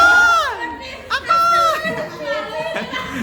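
A school audience at a boarding-school biotechnology class presentation shouts and chatters loudly, with children's voices cheering and overlapping in a noisy crowd over talk.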